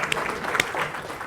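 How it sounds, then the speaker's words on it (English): Short burst of audience applause in a lecture hall during a talk on Byzantine iconoclasm, moderately loud, with a few distinct sharp claps over a blurred wash of clapping. "A round of applause for Emily"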